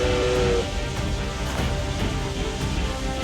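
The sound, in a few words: Steam Tank Obsidian machine from video game Octopath Traveler II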